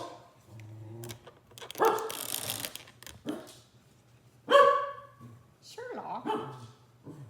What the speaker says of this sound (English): Sherlock, why's you barking, buddy?